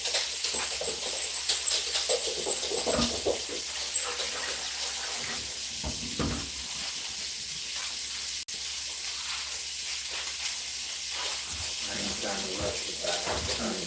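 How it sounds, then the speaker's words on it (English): Tap water running into a sink for handwashing in a home kitchen, a steady broadband hiss lasting throughout, with people talking intermittently over it. "You waiting to wash your hands."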